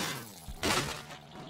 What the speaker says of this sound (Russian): Опять мы разбили тачку.